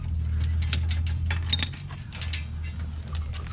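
A hand ratchet loosens a bolt during a coilover suspension install on a Hyundai Veloster, giving quick bursts of sharp clicking over a low background hum, pausing briefly between strokes, close by and with no speech.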